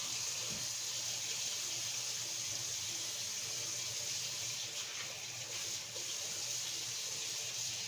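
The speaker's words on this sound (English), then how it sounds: "wash your hands because you just got done touching raw chicken" Cold tap water runs steadily into a kitchen sink as hands are washed after handling raw chicken, a continuous close rushing hiss with no break.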